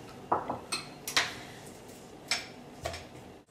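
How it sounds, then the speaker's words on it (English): A spoon stirs strawberry pie filling in a bowl, giving irregular clinks and scrapes against the dish with short pauses between strokes. No voices are heard. "We're going to add the remaining strawberry pie filling into the bowl, and we're just going to stir it all together so it's nice and combined."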